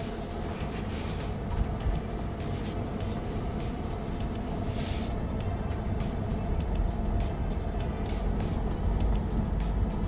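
Steady road and engine noise inside a Tesla Model Y on the move, a continuous low rumble with tyre hum that holds an even level throughout, no voices.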